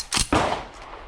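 A 12 gauge Black Aces Tactical Pro Series bullpup shotgun fitted with a V6 Industries muzzle brake fires a subsonic shell, two close, sharp blasts in quick succession followed by a short fading tail.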